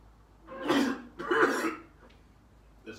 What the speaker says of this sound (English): There's a burp.